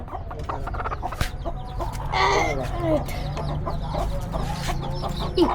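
A chicken clucks and squawks nearby in short irregular bursts, over a low background hum with some faint voices around.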